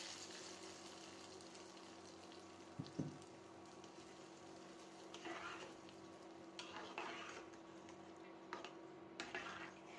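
Onion and garlic frying in a pan for a tempering, a faint steady sizzle with scattered stirring scrapes and clinks over a low hum, no voices.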